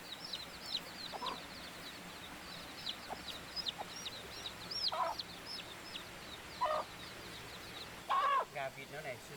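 Chickens clucking on a farm where ducks are also kept, with short scattered calls at intervals over steady outdoor background noise and a louder burst of clucks near the end; no one speaks.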